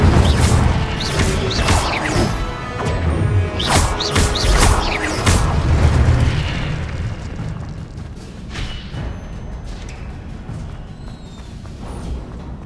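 A fire spell cast in Hogwarts Legacy, a video game: loud booming bursts and crashing impacts that come in quick succession, then settle into a lower, rumbling tail.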